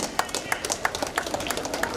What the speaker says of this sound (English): Please give a round of applause. A big clap to the winners.